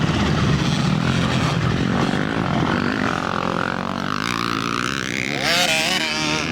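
A dirt bike engine on the Perris Raceway vet motocross track drones loudly and unsteadily, its pitch sagging and wavering as the engine bogs toward a stall before revving up again near the end.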